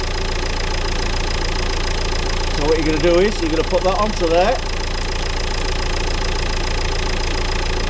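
A car engine idles steadily during a DPF cleaner treatment, a constant mid-low hum and rattle close by, while someone talks over it in the middle.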